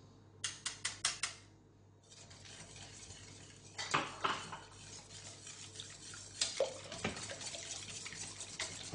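Milk and starch stirred in a pot on the stove, with a spoon scraping and tapping against the sides in short bursts separated by quiet pauses, close and faint.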